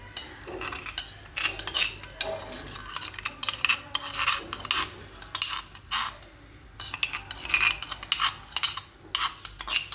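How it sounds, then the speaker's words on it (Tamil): A utensil stirs crushed ginger into milk in a pan, making repeated scraping and clinking strokes against the metal in an uneven rhythm, close and moderately loud, with no talking over it. "அதை அப்படியே இந்த பாலில் வந்துட்டு மிக்ஸ் பண்ணிக்கோங்க."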